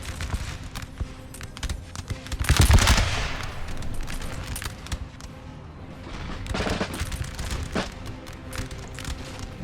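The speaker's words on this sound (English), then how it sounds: "I'm getting some good volleys there." Musket volleys in the Napoleon: Total War battle game, with a loud crackling burst of massed gunfire near the start and further scattered volleys over a steady battlefield din.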